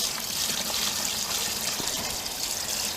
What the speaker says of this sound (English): got to fill it to the full line